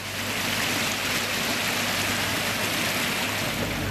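A flooded river surges through heavy monsoon rain in Idukki, Kerala, a loud, dense, unbroken roar of rushing water and rainfall with no voices.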